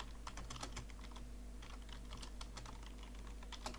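Steady, rapid clatter of keys on a computer keyboard while PHP code is written, close and continuous with no talking.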